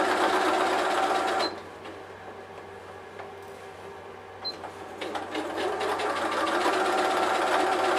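A sewing machine runs in close, steady bursts while topstitching around a small fabric mini backpack, loud at first, easing off, then picking up again.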